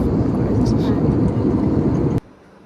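Steady, loud cabin rumble of an airplane in flight just after takeoff, continuous until it cuts off abruptly near the end.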